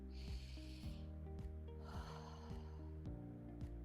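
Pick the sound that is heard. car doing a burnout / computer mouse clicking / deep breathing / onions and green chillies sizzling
deep breathing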